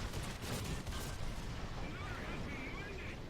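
In War Thunder, a T-35 tank's 76mm gun fires repeatedly against a Panzer II amid constant battle noise, heavy booming shots blending into a loud, rumbling wash of gunfire.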